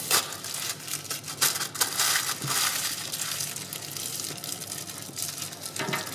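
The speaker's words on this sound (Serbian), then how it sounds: "U prah sam sipala malo vodice." Water poured into powder during preparation of a Štefani meat roll ahead of baking, making a close, continuous soft splashing hiss with a few sharper bursts, no talking.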